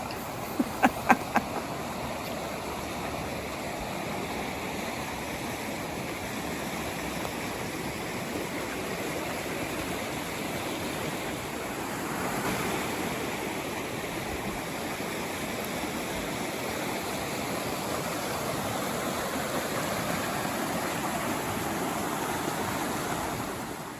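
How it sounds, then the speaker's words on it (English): Steady rushing water from White's Creek near Reno, Nevada fills the scene, a constant broad wash of sound with a few faint clicks near the start. "And here, I'll show you what the creek looks like from the other shore."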